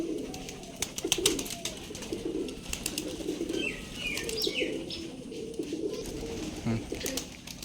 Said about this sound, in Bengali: এটা সীমা কবুতর